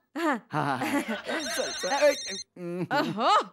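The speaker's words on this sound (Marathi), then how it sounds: "रात्री अकरा वाजता कोणाचा फोन आहे" A telephone rings in a home late at night, its electronic tone sounding under people talking.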